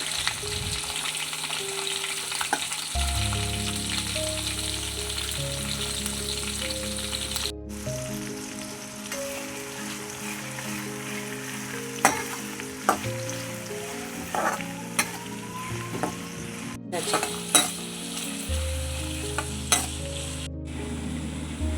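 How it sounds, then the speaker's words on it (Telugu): Green chilli and onion pieces fry in a pan, giving a steady close sizzle that runs throughout with occasional stirring clinks and pops, and no voices. "మనం కట్ చేసి పెట్టుకున్న పచ్చిమిర్చి ముక్కలు ఉల్లిపాయ ముక్కలు వేసుకుందాము"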